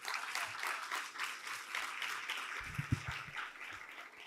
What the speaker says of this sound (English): we can give them an applause nonetheless